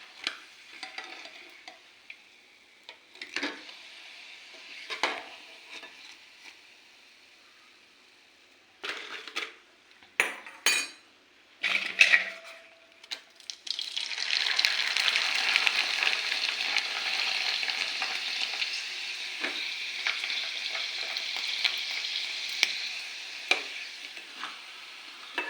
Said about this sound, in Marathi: असे पापड भाजून ठेवायचे